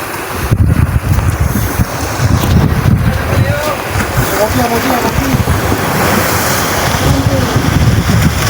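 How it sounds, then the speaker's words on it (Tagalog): Boat moving over open sea toward a larger boat, with strong wind buffeting the microphone and waves washing steadily; a few faint birdlike chirps in the middle. "padulong na sila sa dakong bangka guys"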